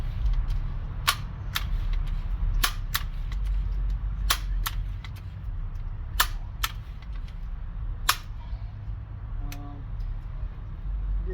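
A Crosman Legacy 1000 air rifle, 100th Anniversary Goldilocks edition, makes a series of sharp, close clicks and snaps spaced irregularly over a low steady background hum, with no speech.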